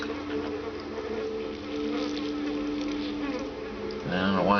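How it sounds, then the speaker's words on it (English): A fly buzzing in the game Vampire: The Masquerade – Bloodlines, a continuous thin whining drone heard steadily throughout at moderate level, joined by a brief rising tonal sound at the end. "I don't know why I'm hearing a fly buzzing noise."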